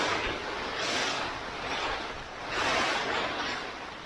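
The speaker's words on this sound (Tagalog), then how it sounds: "Ang lakas ng hangin to, oh." Strong wind on the summit of Mt Timbac roars steadily, swelling and easing in broad gusts, loud and close with no voices.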